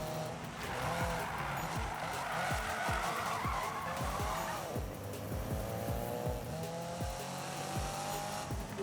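Drift car tires skid and squeal repeatedly in the Need for Speed (2015) racing game, the engine revving and rising in pitch between slides, loud and continuous with no talk.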